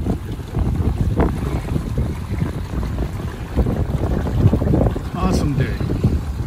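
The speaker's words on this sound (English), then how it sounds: "The wind just picked up." Wind buffets the microphone aboard a Catalina 22 sailboat cruising at about 5.5 knots. The rumble is low, gusty and continuous, with faint water sounds underneath.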